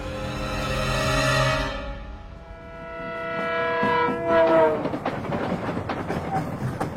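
Train running in a Bengali ghost audio story bound for Gaya, a steady rolling rumble with rising tonal horn-like lines in the middle, continuous and fairly close, with no talk over it.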